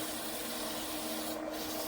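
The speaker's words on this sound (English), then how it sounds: "sanding is not science, rocket science" Continuous abrasive rubbing of sandpaper against an ultra-thin wooden bowl, a steady quiet scratchy hiss lasting under two seconds, no voices.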